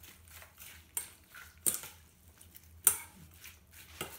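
Utensils clinking against a bowl while Thai egg salad is mixed, a few sparse, light taps and scrapes spread unevenly over a quiet background.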